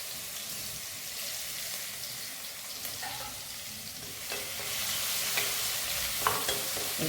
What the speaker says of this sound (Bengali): রসুনটা জাস্ট একটু তেলে নেড়ে নেবো, বেশি লাল হবে না।